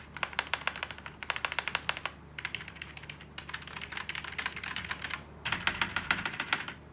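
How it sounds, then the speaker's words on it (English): Fast, continuous typing on a FANTECH K611 Fighter membrane gaming keyboard, with dense bursts of loud keystrokes broken by brief pauses and recorded up close. "this is a membrane keyboard,"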